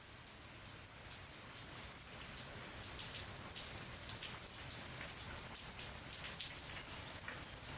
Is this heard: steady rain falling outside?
yes